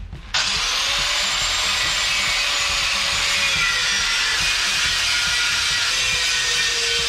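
A power grinder starts abruptly and runs steadily, grinding and sanding a steel flatbed truck frame before welding; a loud, sustained whine with a slowly shifting pitch, close up, no talk.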